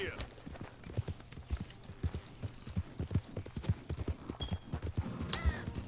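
A horse clip-clops steadily at a trot in the video game Red Dead Redemption, with hoof beats in an even rhythm and a brief whinny-like sound near the end, fairly quiet.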